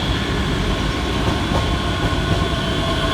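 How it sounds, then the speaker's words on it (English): A ScotRail Express electric train from Glasgow Queen Street to Edinburgh Waverley rumbles steadily past at close range at Edinburgh Haymarket, a dense continuous roar of wheels on rails. "the slightly delayed 1432 set down early ScotRail Express service from Glasgow Queen Street through to Edinburgh Waverley."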